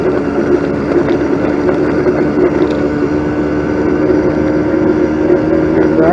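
A stock 50cc four-stroke engine on a motorized bicycle while riding, a steady droning hum with road and wind rumble, continuous and close, with no pauses.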